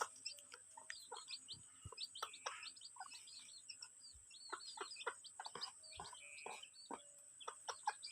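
White-eared chickens eating feed give soft, close clucks and short chirpy calls in an irregular series, fairly faint against a quiet background with a steady high hiss.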